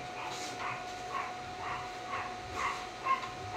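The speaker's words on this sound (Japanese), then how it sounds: "犬が吠えた。" A dog barks several times in a steady series of short yaps, heard at a moderate distance indoors over a faint constant tone.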